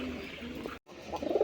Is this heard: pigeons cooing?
yes